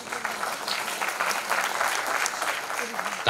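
Audience applauding actress Divyanka Tripathi at the 'Atal Geet Ganga' event, a brief burst of dense crowd clapping with voices mingled underneath.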